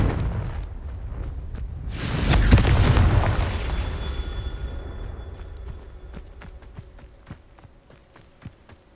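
In the Hogwarts Legacy video game, a Confringo fire spell lands as a loud, booming blast that swells and slowly fades over several seconds, followed by light footsteps and small impacts.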